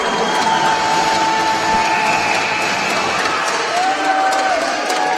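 Hockey arena crowd cheering at a women's professional playoff game, a loud sustained roar filling the building with a faint whistle-like tone over it and commentators' voices under it.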